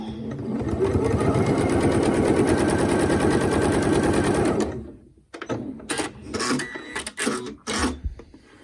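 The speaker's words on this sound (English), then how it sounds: "I'm gonna put my foot down and I'm going to sew." A sewing machine stitches half-hexagon quilt pieces together with a fast, steady mechanical whir for about five seconds, then stops, followed by fabric rustling, clicks and light handling sounds.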